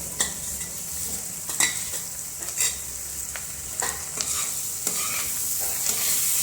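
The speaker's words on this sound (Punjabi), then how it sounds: "ਹੁਣ ਮੈਂ ਟਮਾਟਰ ਪਾ ਦਵਾਂਗੀ" Tomatoes tossed into a frying masala for an arbi and baingan sabzi, stirred with repeated scraping strokes against the pan over a continuous sizzle, close and fairly loud, no voices.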